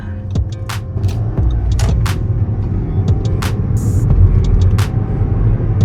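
A Porsche 986 Boxster is driven at normal operating temperature, with a steady low engine and road rumble heard from inside the cabin, broken by scattered short clicks and rattles, no voices.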